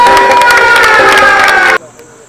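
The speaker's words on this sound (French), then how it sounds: "S'il vous plaît, on peut l'applaudir, s'il vous plaît." A student film festival crowd in 2018 cheers and shouts loudly, with applause mixed in, for the director of a local TV channel, then cuts off abruptly near the end, leaving faint room noise.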